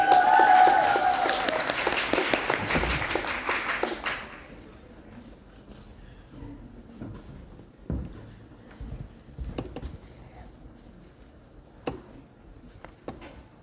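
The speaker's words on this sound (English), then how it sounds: "So let's give her a round of applause." Applause from an audience at the AALD Streams event greets a design speaker, a dense burst lasting a few seconds that fades into a quiet room with scattered faint ticks and shuffles.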